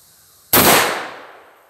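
A single sharp gunshot fired at a watermelon outdoors, loud and close, with a sudden crack that decays over about a second, and nobody talking.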